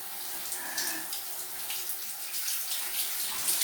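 Water runs from a tap in a steady splashing stream, close and moderately loud, with faint brief tones in the background and no talk.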